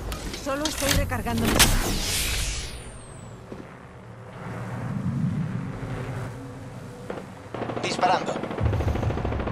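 Video game gunfire in a team shooter: loud rapid bursts of automatic shots up front, then a rumbling lull with heavy mechanical noise, and another sharp cluster of shots near the end, all dense and close.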